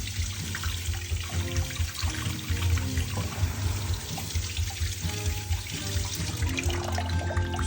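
Steady tap water runs continuously over a vinyl record being rinsed by hand in a home sink, a dense, even splashing and trickling stream heard up close with no talking.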